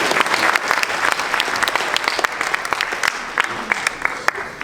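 Conference audience at an Ethereum developer event in Toronto bursts into applause, a full, dense roar of clapping with sharp individual claps standing out, sustained across the room.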